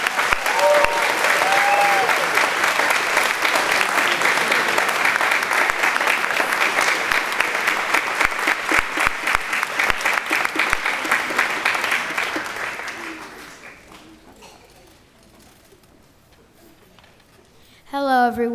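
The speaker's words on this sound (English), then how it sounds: "Please join me in giving Mr. McDonald a round of applause" Audience applause for Mr. McDonald at a lower school winter concert, a dense, loud crowd clapping for about twelve seconds before fading to quiet, with a brief voice starting at the end.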